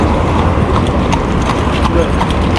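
Horse hooves clip-clop in a steady, close rhythm on a hard street surface, running under people talking throughout.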